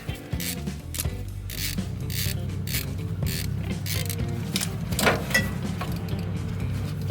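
Ratcheting and metallic working sounds from a wrench loosening a long bolt on the back side of a mechanical fuel pump on an old Dodge Cummins diesel, with repeated close clicks and scraping throughout.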